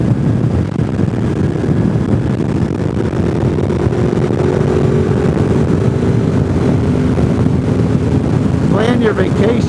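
A Honda Goldwing motorcycle riding along the Foothills Parkway, its engine a steady low rumble under constant wind rush, loud and close throughout with a brief rising whine near the end.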